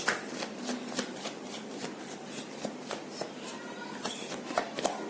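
Tarot cards are shuffled by hand close up, making a run of quick riffling snaps and soft slides in an uneven rhythm.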